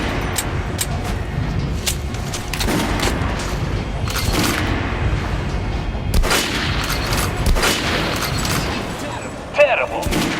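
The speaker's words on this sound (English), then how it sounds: "Shoot the dummy in the head." Gunfire at a shooting-range dummy in the video game Metro: Last Light Redux, a run of sharp shots and bursts spread across the clip, loud and close, with game sounds between them.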